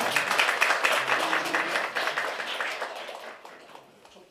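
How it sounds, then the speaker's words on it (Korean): Applause from a crowd at a political party's second-anniversary press gathering, dense and steady clapping that slowly fades toward the end, with no voices over it. "큰 박수로 부탁드립니다."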